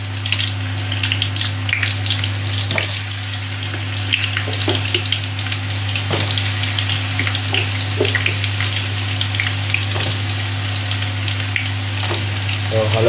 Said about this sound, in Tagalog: So, lagay na natin yung ating patatas muna. Lutuin natin.